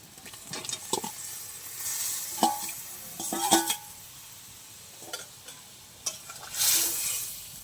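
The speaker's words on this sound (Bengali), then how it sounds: "এবার আমি ভেজে রাখা আলু আর ঢেঁড়স দিয়ে দেবো।" Fried potatoes and okra go into a simmering vegetarian gravy and get stirred, with soft scraping strokes and clinks of a spoon against the pan over a faint, steady bubbling sizzle, close and moderately quiet.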